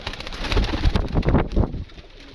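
Pigeons coo in a close, steady run of soft throaty calls that fill most of the stretch, then fade near the end.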